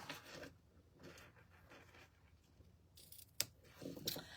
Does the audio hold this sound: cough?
no